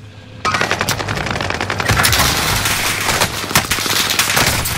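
Automatic gunfire in Call of Duty: Warzone on the Fortune's Keep map, a loud, close, sustained burst of rapid machine-gun shots that starts suddenly and keeps rattling throughout.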